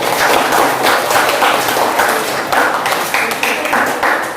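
A dense, continuous patter of applause from a room full of people, loud and sustained throughout without any break.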